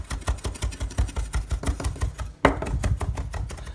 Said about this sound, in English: and I'm just going to start chopping.